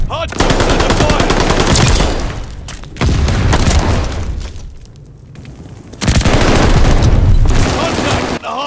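Heavy gunfire around a hardpoint in Call of Duty: Vanguard multiplayer, with dense automatic bursts and booming shots in three loud waves, separated by brief quieter gaps.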